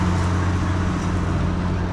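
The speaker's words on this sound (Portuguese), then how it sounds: "Deixa só esse caminhão passar aí." A truck passes close on a road, a loud steady low engine rumble with a deep droning hum that fills the whole moment.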